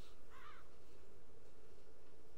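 A single short crow caw from the video game Child of Light, heard once over a steady low ambient game background.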